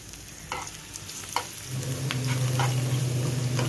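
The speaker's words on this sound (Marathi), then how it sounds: "ऑइल थोडं गरम झाल्यानंतर त्यामध्ये लसण हा तळून घेत आहे" Crushed garlic frying in hot oil in a pan, a close steady sizzle with a few light scrapes that swells into a louder hiss partway through.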